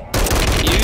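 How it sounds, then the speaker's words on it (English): Thermite shotgun blasts in Call of Duty, a dense roaring burst of fiery gunfire that kicks in abruptly after a brief quiet moment and sustains loudly to the end. "Use like a thermite shotgun"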